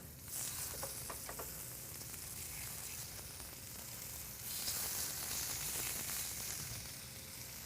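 Turkey medallions searing in warm olive oil in a pan: a steady, fairly loud sizzle and crackle that holds throughout and swells partway through, with no voices.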